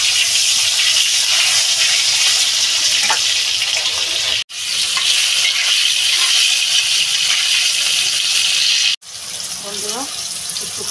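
Cut potatoes fry in a pan of oil while a fish curry is cooked, giving a loud, steady, close sizzle that continues throughout with two brief breaks.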